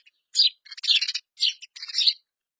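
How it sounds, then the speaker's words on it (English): A sparrow chirps in four quick, bright bursts of high, twittering notes, close and clear against total silence. "Sparrow."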